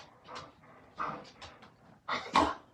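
A dog pants close by indoors in short breathy bursts, a quick irregular huffing rhythm with soft pauses between breaths.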